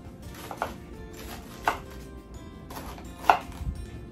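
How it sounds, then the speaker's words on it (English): A knife chops celery and onions on a cutting board in a home kitchen, giving sparse, crisp, fairly quiet chops at uneven intervals with a faint room hush between them. "Chop your celery nice and small, and the same with onions."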